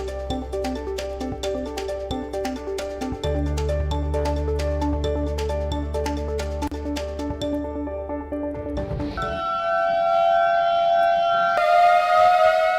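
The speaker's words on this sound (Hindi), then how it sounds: "दरअसल गेट जब भी खोले जाते हैं एहतियातन ये सायरन बजाया जाता है।" A dam gate warning siren sounds as the gates are opened during heavy monsoon rain in Madhya Pradesh. A loud, steady wailing tone carries over rhythmic clanking, then shifts to higher sustained pitches near the end.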